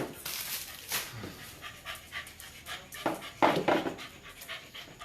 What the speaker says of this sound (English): She's after standing the dog there now.